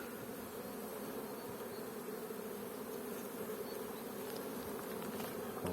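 Honeybees buzz in a steady, continuous drone around a beekeeper's hive in spring, a dense unbroken hum close by with no talk over it.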